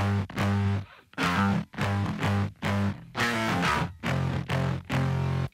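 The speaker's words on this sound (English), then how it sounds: "through a load of different sort of like distortion plugins and stuff, here's what it sounds like" Electric bass run through distortion plugins plays a chunky riff of repeated sustained notes with short gaps between them, loud and upfront, with no voices.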